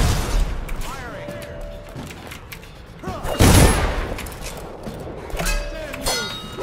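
Guards open fire in the stealth video game Dishonored, with loud gunshot bursts, the strongest near the middle, over dense game ambience, shouted voices and music.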